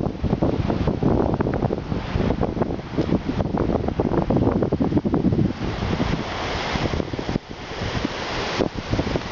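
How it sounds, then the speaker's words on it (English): Strong wind blowing at the Pacific coast, a loud, continuous roaring gust that buffets the microphone, with surf-like rushing and swells in intensity and no voices. "Wind's really starting to pick up."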